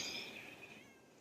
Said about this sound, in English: And that's my kitty cat.